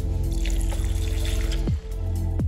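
Water pours steadily into a homemade cashew mayonnaise mixture in a continuous trickling stream, close by, with a couple of brief bumps near the end.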